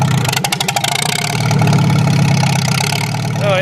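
A nearby Farmall tractor engine idling with a steady low rumble and rapid chugging pulses, joined by a rising whine near the end.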